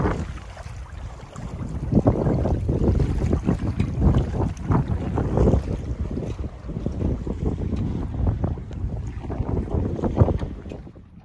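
Sailboat under sail in steady wind with nobody at the helm, a single-handed crossing: continuous loud wind buffeting the microphone over the rush and slap of water against the hull, alone with no talk.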